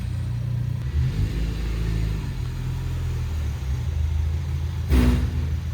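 A Ford Bronco on a test drive after a Wilwood brake kit upgrade, its engine giving a steady close rumble throughout, with a brief louder burst near the end.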